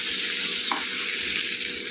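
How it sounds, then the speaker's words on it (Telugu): Cumin seeds frying with fried tomatoes in a pan for a ponnaganti leaf chutney, a steady close hiss of sizzling oil throughout with one brief stir scrape, no talking. "ఇప్పుడు మనం ఇందులో జీలకర్ర వేసుకుందాం"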